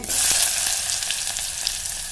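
Onions hit hot oil already crackling with mustard seeds and cumin, a loud sizzling burst that settles into a steady fry for about two seconds.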